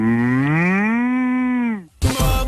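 A person vocally imitates a cow, producing one long, loud, sustained moo with a steady pitch that falls at the end, followed by a brief burst of noise, in a French television talk-show studio.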